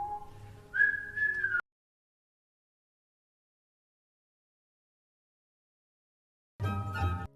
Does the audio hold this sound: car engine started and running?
no